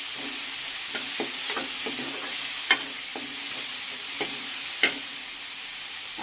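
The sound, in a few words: frying mutton curry in pan, Telangana style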